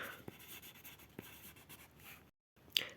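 Writing strokes during a grade 8 math lesson, a few scratchy marks with quiet pauses and a brief gap near the end, close and fairly soft with no talk.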